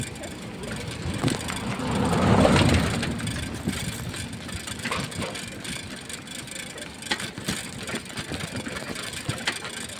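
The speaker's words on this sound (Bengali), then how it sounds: "এ বাইক, এ অটো, দেখো অটো যাচ্ছে" An auto rickshaw and a motorbike passing on a rough, broken road, engine noise swelling as one goes by close, then a continuing rumble of traffic with rattles and bumps.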